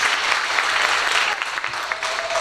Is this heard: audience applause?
yes